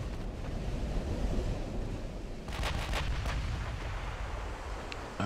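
Battleship secondary guns firing in Ultimate Admiral: Dreadnoughts, a WW2-era battleship at Jutland: booming reports over a constant roar of sea and wind, with a tight cluster of shots near the middle and a final crack at the end.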